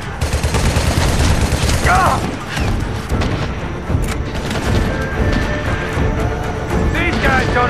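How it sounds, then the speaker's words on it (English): Sustained gunfire in the SOCOM Special Forces video game, loud rapid bursts of automatic fire and single shots layered densely throughout, with shouted voices mixed in. "Keep up the fire!"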